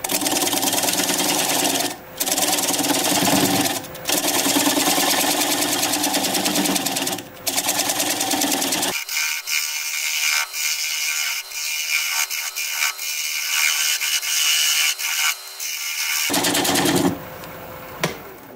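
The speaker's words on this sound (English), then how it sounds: "I'm going to grab a 3/8 inch bowl gouge and commence to removing that tenon." Wood lathe at about 580 rpm with a 3/8 inch bowl gouge removing the tenon from a bark-on bowl, loud rapid rattling chatter of the cut, broken by brief pauses and a stretch of thinner tool scraping.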